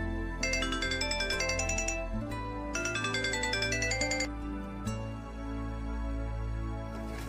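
A mobile phone plays a melodic electronic ringtone in two repeated phrases, clear and fairly close, before the tune breaks off and a quiet background remains.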